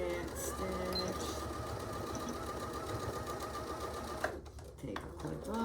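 A sewing machine running a back stitch while building an artist case with box corners, a steady faint mechanical whir that continues evenly and then stops near the end, followed by a few light handling clicks.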